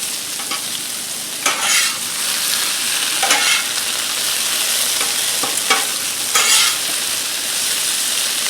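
A breakfast scramble with drained bacon sizzles steadily on a Blackstone griddle, with several scraping tosses of a spatula breaking through the constant frying hiss.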